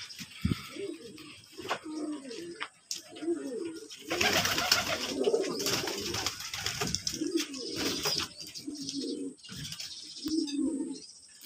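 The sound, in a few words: pigeons cooing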